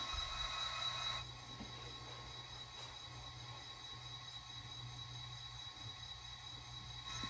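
A Santa Fe passenger train, led by its cab car, rolls slowly into the Glen Rose station with a low steady rumble, a faint high wheel squeal and a few soft clanks.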